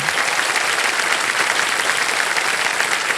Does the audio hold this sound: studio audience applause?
yes